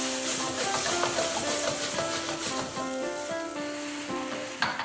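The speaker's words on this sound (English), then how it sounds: "Stir fry Osam Bulgogi until they are fully cooked and nice charred on the edges" Spicy squid and pork belly with zucchini stir-frying in a hot pan, a loud steady sizzle with crackling spatter and occasional stirring scrapes, close and continuous.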